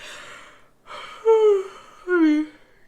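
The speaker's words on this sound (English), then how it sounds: "So hope I'm about to yawn." A person lets out a drawn breath and then two long, voiced yawning exhalations that fall in pitch. The sound is close and quiet, with no other noise around it.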